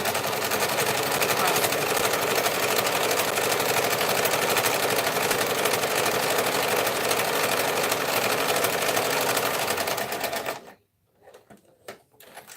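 An industrial sewing machine runs steadily and loudly while stitching a tote bag, a dense rapid whir that stops near the end, followed by a brief word.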